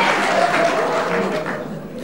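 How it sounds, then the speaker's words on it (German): Studio audience applause on a German 1980s television show, a loud, dense burst of clapping that fades slightly toward the end, with a voice briefly audible underneath. "Oh, jetzt kommt Applaus."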